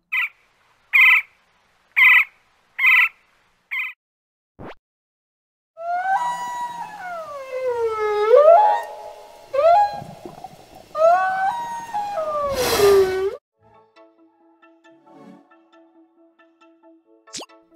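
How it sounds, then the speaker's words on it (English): A whale's vocalization in an animal sound quiz: long, rising and falling moaning calls with sweeping tones, repeated several times and fairly loud. Evenly spaced quiz timer beeps come before the calls. "The answer here is C, whale."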